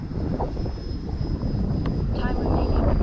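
An FMS Futura V3 RC model airplane drones overhead at half throttle on a windy day, a steady motor whine over broad wind noise, moderately distant.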